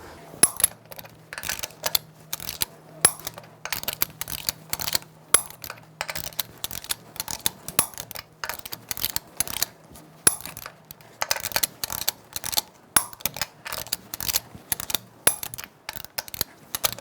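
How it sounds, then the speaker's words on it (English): A torque wrench clicks and ratchets steadily on the lug nuts of a Ford E-250 rear wheel, giving sharp metallic ticks in dense, rapid bursts close by with no talk. "Now I'm going to torque the lug nuts to 148 foot-pounds in a cross pattern to tighten the wheel down evenly."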